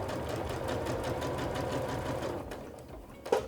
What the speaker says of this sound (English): we're gonna sew just to the folded edge of this facing and not past